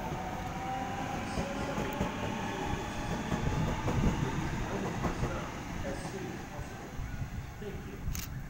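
A Sydney Waratah train departs a station at Lewisham: a steady low rumble and rolling wheel noise that builds slightly then eases, heard from the platform at moderate distance with faint high squeals, without clear talk.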